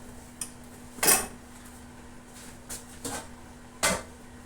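Pot lid lifting and a spoon stirring chicken curry in a cooking pot, with a few distinct metallic clinks and scrapes spaced across a quiet background, one louder clatter near the start and another near the end.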